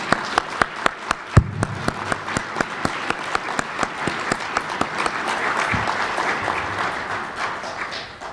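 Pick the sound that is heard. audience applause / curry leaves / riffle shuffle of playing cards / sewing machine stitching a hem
audience applause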